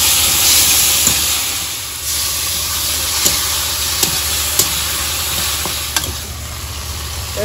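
Water poured into a hot pan of fish masala curry made with a 5 kg fish, giving loud, continuous steaming and hissing with several sharp clicks of stirring, and no talking.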